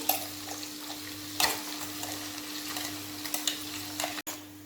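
Ground masala gets stirred into chicken gravy frying in a pan, a continuous soft sizzle with spoon scrapes and a few clinks against the pot, no voices present.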